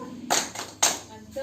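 Two sharp, close hand claps spaced about half a second apart, part of the Malay 'tepuk mantul' clapping chant led for children, with a voice speaking around them.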